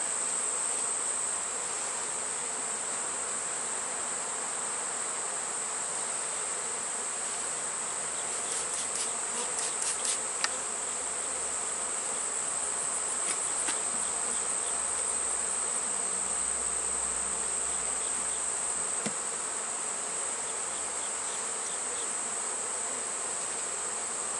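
Honey bees hum steadily around a hive holding open brood, a soft, continuous drone filling the background with faint scattered clicks, no voices.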